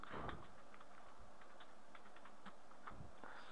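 An email address typed on a computer keyboard: a steady run of light, close key taps, soft and fairly quiet against a faint background hiss.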